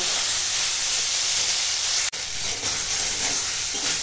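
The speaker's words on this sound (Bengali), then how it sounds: "এখন নুন হলুদের সঙ্গে কুমড়ো আর বেগুনটাকে ভাজবো, ভেজে একদম গলিয়ে নেব।" Pumpkin and eggplant frying in a pan with salt and turmeric, a loud, continuous close hiss and sizzle with one brief dropout midway.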